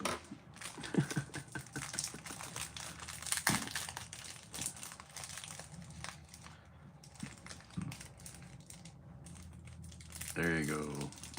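Plastic cracker packages crinkle and rustle as they are cut open, with crisp crackling bursts and snips close up, and a voice briefly murmurs at moments.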